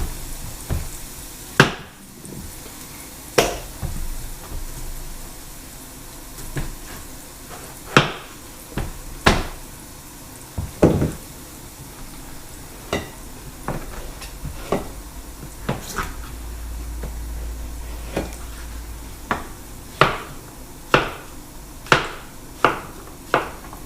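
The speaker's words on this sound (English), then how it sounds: "Let's chop down this zucchini." A knife chops zucchini on a cutting board, sharp irregular knocks that quicken into a faster, even rhythm toward the end, with faint background noise between strokes.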